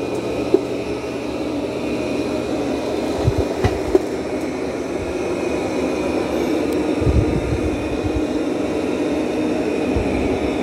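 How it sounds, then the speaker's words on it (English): A Roborock Qrevo Pro robot vacuum runs continuously on a floor scattered with dirt and debris, giving a steady whirring drone with occasional soft bumps and rattles from picked-up grit, close by and without talking. "It's doing a good job vacuuming."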